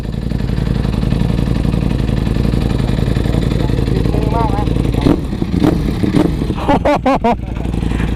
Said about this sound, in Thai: โอ้โห เสียง สมเป็นอาคาโบวิกเลย